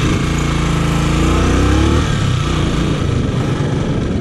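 A motorcycle engine revs hard and close during a practice ride, holding a rising pitched drone for about two seconds before easing off into a rougher, lower idle.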